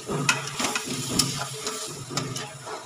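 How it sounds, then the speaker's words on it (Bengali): Boiled potato pieces go into a pan of vegetarian potato-tomato curry and are stirred, giving a soft sizzle under quick, close scraping and clinking strokes. "এগুলো আমি এখন দিয়ে দেবো। দিয়ে আবার একটু ভালো করে নাড়াচাড়া করবো আলুর সঙ্গে"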